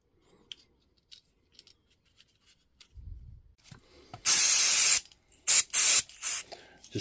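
Brake cleaner sprayed onto the internal mechanism of a DeWalt power tool under repair: two loud, close hissing bursts of aerosol, the first longer, after some quiet handling clicks and a low thump.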